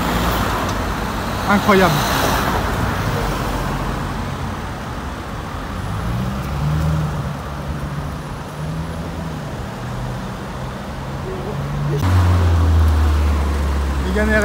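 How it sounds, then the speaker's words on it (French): A Jaguar F-Type SVR with a twin-turbo V8 passes on a city street amid steady traffic noise, its engine a deep rising and falling drone, with a heavier low rumble swelling near the end and a voice talking briefly. "Regardez, F-Type SVR, V8 biturbo."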